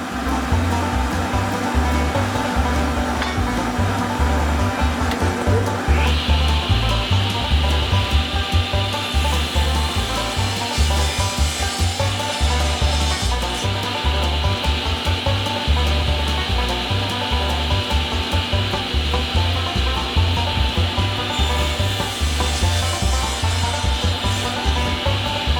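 A power saw cuts wood for a cornice box in a home workshop, with a loud, continuous motor whine and rough cutting noise that runs unbroken throughout. The tone rises in pitch partway through.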